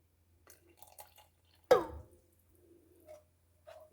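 A tablespoon or two of water is poured into a thick malai kofta sauce to thin it, landing in one quick close splash amid a few faint drips in a quiet kitchen.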